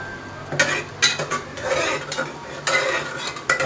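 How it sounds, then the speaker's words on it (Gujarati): Dal fry tempering sizzles softly in a pan at a home kitchen while a metal spoon stirs and clinks against it several times in an irregular rhythm, close and clear, with no talking. "આ દાલ ફ્રાયનો વઘાર છે"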